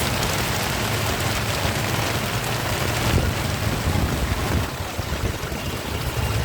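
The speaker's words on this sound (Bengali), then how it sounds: "কি বৃষ্টি" Heavy rain pouring down steadily in a town beside a river bridge, a loud continuous hiss with no voices.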